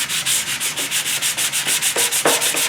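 Hand sanding of gray primer on body work of a 1969 Mustang, a close, steady back-and-forth rasp in quick regular strokes, with no voices.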